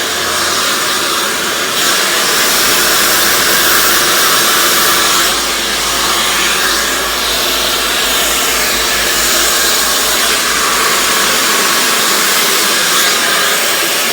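A hair dryer blows steadily and loudly throughout while hair is blow-dried straight, a continuous close whooshing roar with slight shifts in tone as the dryer moves.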